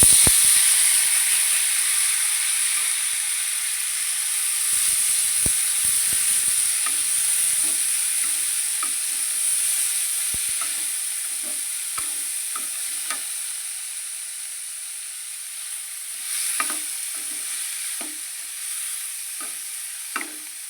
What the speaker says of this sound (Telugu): ఇప్పుడు ఉడకబెట్టుకున్న పొట్లకాయ ముక్కలు వేసేసుకోండి